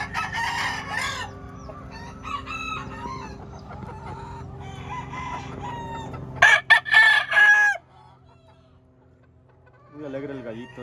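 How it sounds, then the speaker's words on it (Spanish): A Red Fox Gray gamefowl rooster crows in a farm yard, a clear nearby cock-a-doodle-doo with other fowl clucking and calling around it and a second crow starting at the end. "Alegre el gallito este."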